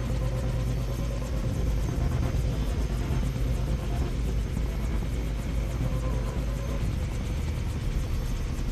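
Helicopter in the video game Far Cry 3, a steady loud rotor and engine rumble with faint rhythmic blade chop running throughout, no voices.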